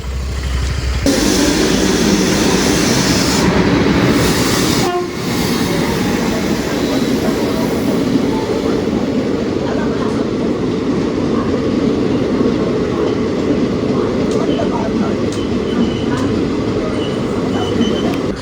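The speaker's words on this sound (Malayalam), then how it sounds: "പയ്യന്നൂരിൽ വന്നിരിക്കുന്നത് കണ്ണൂർ മംഗലാപുരം സെൻട്രൽ പാസഞ്ചറാണ് കേട്ടോ." A Kannur–Mangalore Central passenger train hauled by a diesel locomotive stands at Payyanur station, filling the air with a loud, steady rumble and rolling wagon noise that persists throughout with little pause.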